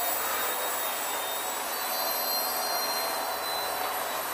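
An Esky 150X small RC helicopter in flight, a steady high-pitched rotor and motor whine with broadband hiss, constant and fairly close for the whole stretch, with no talking.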